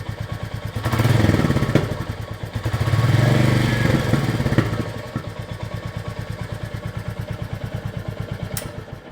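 A Royal Enfield single-cylinder motorcycle engine idling close by with a steady, even thumping beat, swelling twice as the throttle is blipped before settling back to idle.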